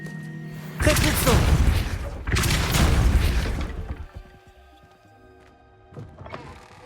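Casting the Repulso spell in Hogwarts Legacy produces two loud, broad blasts in quick succession, each about a second and a half long, followed by quieter rumbling, with voices present.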